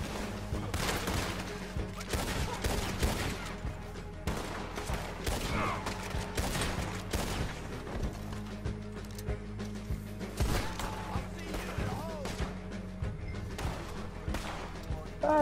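Gunfire from Red Dead Redemption Online during a legendary bounty hunt, repeated sharp shots and volleys crack in dense bursts over game noise, with a voice talking at times.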